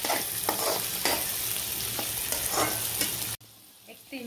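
Green peas popping and crackling in hot oil for a matar paneer pulao, a steady broadband sizzle with scattered sharp pops and spoon scrapes, cutting off abruptly near the end to a quieter hiss.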